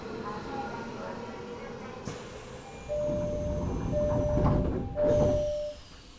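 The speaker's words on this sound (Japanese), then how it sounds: "閉まるドアにご注意ください。" Odakyu Series 1000 electric train doors sliding shut at a station platform, a soft thump and rolling slide followed by a steady electronic chime tone and hum, with a recorded announcement voice heard at the start.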